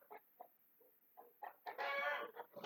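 A neighbour's rooster crows in one loud, drawn-out burst near the middle, with shorter clucking calls before and after in a quiet room.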